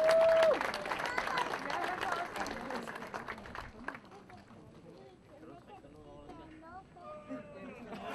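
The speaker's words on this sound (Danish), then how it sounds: "Vi bliver ved med at klappe." A crowd claps at a motocross championship medal ceremony, the applause loud at first and then thinning into scattered claps, with an announcer's voice running over it.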